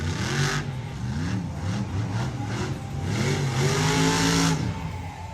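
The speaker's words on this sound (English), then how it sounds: "Another truck that's just sounding and feeling like it's not getting all of its power" Shockwave monster truck engine revving at a monster truck show in Miami, Oklahoma, sounding down on power: repeated rising and falling revs, loud and fairly close, with a longer climb near the end and crowd noise behind.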